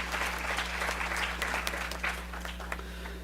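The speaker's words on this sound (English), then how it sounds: "can we just start off and give a huge round of applause to them?" Audience applause for a conference committee, a steady wash of clapping over a constant low electrical hum, fairly distant and moderate in level, gradually thinning toward the end.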